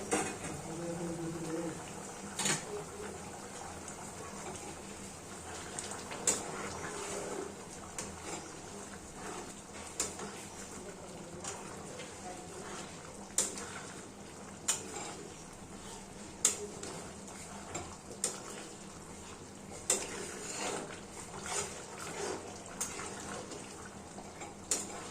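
Kashmiri chicken kanti gravy simmering in a pot on a home stove, giving a faint, steady bubbling with scattered soft pops and clinks throughout.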